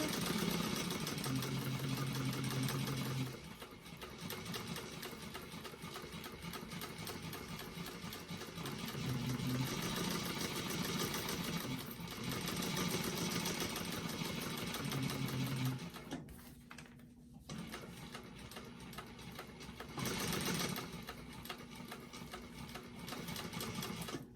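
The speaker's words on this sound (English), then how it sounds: "I'm going to baste with the stitch length of 5, just an 1/8 of an inch around the outside to get those pieces together" A sewing machine runs in long continuous bursts while basting fabric pieces for a bag at stitch length 5, an eighth of an inch from the edge. It hums loud and close, with brief pauses and restarts and no talk.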